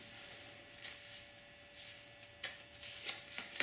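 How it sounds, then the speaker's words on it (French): Tarot cards are shuffled and drawn for a reading, a series of soft riffling swishes and light flicks close by, growing sharper and snappier toward the end. "on va tirer une carte de conseil"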